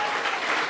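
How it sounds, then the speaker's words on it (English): Applause from a crowd at a boxing event, a short, steady burst of clapping heard alone. "let's have a round of applause."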